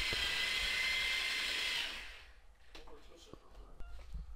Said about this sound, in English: I wanted to check that the drill was capable of doing a full bag.